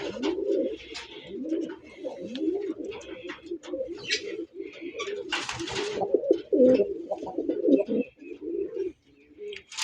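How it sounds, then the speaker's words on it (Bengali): A male pigeon coos close by in repeated, throaty rolling phrases, with a few brief rustles and clicks between calls. "আমি নটটার ডাক একটু আবার দেখাই দিই দেখেন নটটা কী করে"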